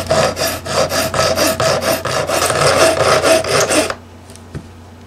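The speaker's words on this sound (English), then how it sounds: "I'm going to keep filing away and crown these frets and polish them up" Guitar neck frets on a 1983 G&L being filed, a run of rhythmic rasping strokes, close and loud, that stops abruptly near the end, followed by quiet.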